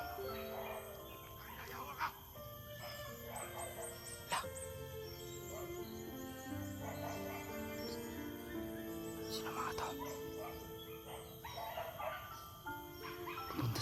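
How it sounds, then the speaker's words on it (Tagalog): A dog barks in short bursts among busy outdoor noise, with people talking and a background of music or chatter throughout. "Kaya pala maingay yung aso."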